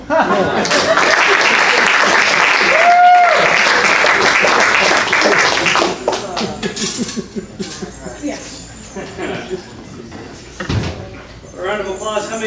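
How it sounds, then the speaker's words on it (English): Audience at an improv comedy show applauds and cheers for about six seconds, then the clapping thins to scattered claps amid talking, laughter and stage movement noises. "A round of applause."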